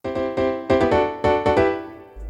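Bright electronic chords, a pre-drop fill for an energetic dance track, hit in a quick syncopated rhythm of repeated stabs. They sound loud and close, and a low thump enters at the very end.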